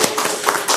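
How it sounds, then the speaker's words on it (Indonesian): Brisk clapping from a small audience at a casual gathering, honoring a father and his child, a short burst of dense hand claps that sounds fairly close. "kita tepuk tangan dulu dong buat papa dan anaknya"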